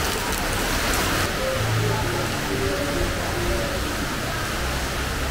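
Steady heavy rain pours on Cat Ba island in Ha Long Bay, Vietnam, a dense continuous hiss that holds at an even level, with faint voices murmuring beneath it.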